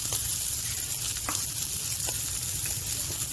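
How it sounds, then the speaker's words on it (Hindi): Carrots sautéing in a pan for pasta, a constant close hiss of sizzling oil with a few faint clinks of stirring, steady throughout and free of talk. "सौते कर लीजिए। अब इसके साथ ही इसमें ये गाजर डाल दीजिए"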